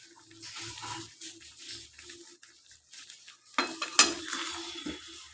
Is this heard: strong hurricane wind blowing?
no